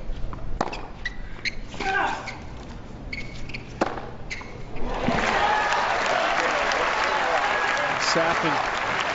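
Tennis crowd at a men's quarterfinal match, with scattered claps and ball thuds at first, then swelling into loud sustained applause, with a commentator talking over it.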